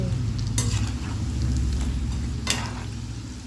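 Onion bonda frying in hot oil, a loud continuous close sizzle with a couple of sharper splashes or stirring clinks.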